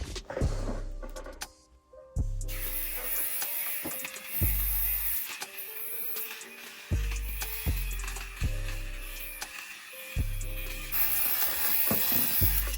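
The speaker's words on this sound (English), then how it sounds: "I'm gonna go in with this fabric shaver and get the inside" A small electric fabric shaver buzzes in repeated short bursts on the inside of a sneaker, starting and stopping with a mechanical whir and ratcheting clicks between passes.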